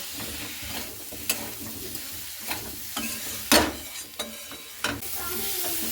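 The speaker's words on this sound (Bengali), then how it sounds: "ভেজে রাখা ওলগুলো দিয়ে আবারও আমি খুব ভালো করে একটু কষিয়ে নেব" Fried elephant foot yam pieces are sautéed with spices in a pan, a low steady sizzle punctuated by several sharp spatula scrapes and clacks against the metal.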